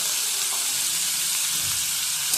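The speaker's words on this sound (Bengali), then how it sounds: "মূলো ভেজে নেব।" Chopped radish fries in hot oil with turmeric, mustard seeds and dried chili, giving a steady loud sizzle and hiss that continues without pause and with no voices.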